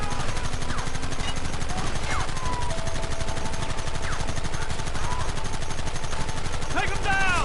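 Rapid, continuous gunfire in the Red Dead Redemption video game, with dense overlapping shots and bursts filling the scene loudly while voices shout over the shooting.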